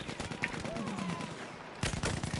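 Machine gun fire in the World War I shooter Battlefield 1: a dense, continuous rattle of rapid shots throughout, swelling into a louder, closer burst near the end.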